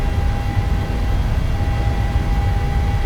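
A PMDG 737 jet rolls down the runway for a reduced-thrust takeoff in Microsoft Flight Simulator. A loud, steady engine roar and broadband rumble continue without a break, with a thin whine held on top.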